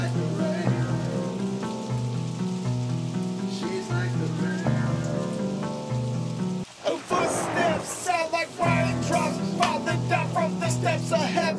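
Heavy rain pours steadily on a surface in a continuous dense hiss, mixed under a dark rap music track, with the beat briefly dropping out midway while the rain carries on.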